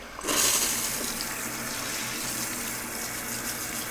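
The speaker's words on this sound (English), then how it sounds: "we're going to rinse it for a full 5 minutes with cool water" Cool water runs from a tap to rinse a Follea wig, a steady broadband gush that starts suddenly and splashes on without a break, close and continuous.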